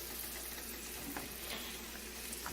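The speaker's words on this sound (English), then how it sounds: "I'm trying to coat the carrots in oil." Onions and carrots frying in oil for meatless fried rice, a quiet even sizzle with faint crackles and light stirring scrapes, no voices.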